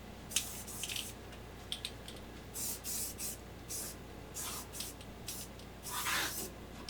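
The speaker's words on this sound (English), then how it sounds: "all I'm gonna do is take some spray paint and just outline" Short bursts of hissing spray paint outlining on metal, repeated in uneven pulses with brief pauses, close and fairly loud, with faint scraping between them.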